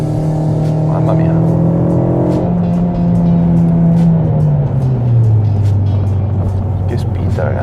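An Alfa Romeo Giulietta QV accelerates hard on a road with a damp stretch, its engine droning steadily up through the revs with a shift partway and a deepening tone, heard from inside the cabin.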